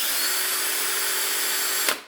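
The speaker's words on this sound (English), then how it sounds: "just drill it for a little bit, like that long" A power drill bores out a broken grease fitting on a Yamaha Raptor ATV. Its loud, steady whine holds close for about two seconds, then stops abruptly with a brief clunk.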